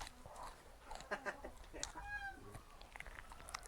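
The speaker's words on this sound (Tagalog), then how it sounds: "Sayang, ang ganda ng manok mo." A chicken clucks in short, bright bursts near the listener in a rural mountain setting, mixed with chewing sounds while people chat nearby.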